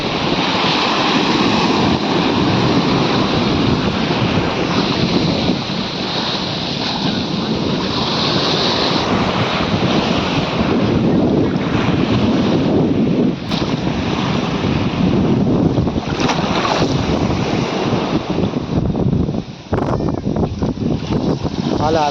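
Sea waves washing continuously near a bridge at Revdanda beach, a loud, steady surf roar mixed with wind buffeting, with occasional voices underneath.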